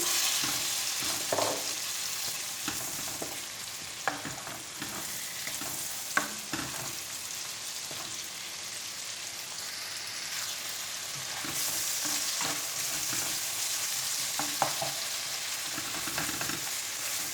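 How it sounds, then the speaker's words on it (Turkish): Minced meat and softened onions sizzle steadily in a hot pan, browning for a Turkish one-pot pasta, with occasional scraping and stirring clatters over the continuous frying hiss. "Soğanlarla kıyma birazcık şu şekilde kavrulsun."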